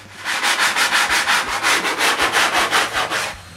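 A cut wooden bench piece being sanded smooth after a random curve was cut on a band saw: steady, loud rhythmic rasping strokes, about four per second, close up with no talk.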